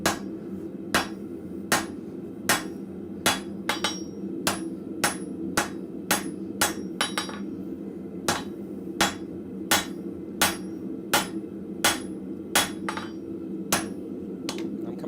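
Hammer blows flattening upset steel at a blacksmith forge, a steady run of sharp metallic strikes spaced under a second apart, close and ringing over a low background hum.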